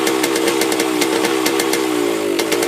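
A 1979 Yamaha DT125 two-stroke enduro motorcycle engine runs up close with the choke out, a loud, steady buzzing idle broken by regular sharp popping pulses. It burns smoky and sounds ragged.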